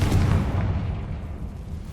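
A Confringo fire-blast spell in Hogwarts Legacy bursts with a loud, deep boom that rolls off into a fading low rumble over two seconds.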